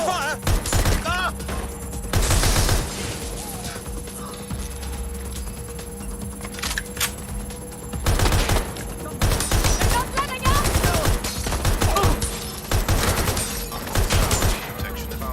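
Gunfire in the video game Watch Dogs: Legion, with loud bursts of rapid automatic shots breaking out repeatedly amid shouting voices and combat clatter.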